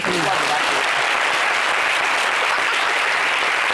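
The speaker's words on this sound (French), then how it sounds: "Applaudissez pour la..." A television studio audience bursts into steady, dense applause on a French-language talk show, a continuous close wash of clapping filling the short stretch without pause.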